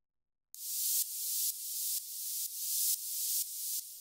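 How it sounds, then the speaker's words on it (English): Bright, airy tech house hi-hat layer of white noise through a high-pass filter, pulsing in a steady rhythm of repeated swells, with no low end. "it's just a little bit of white noise going through a high pass filter"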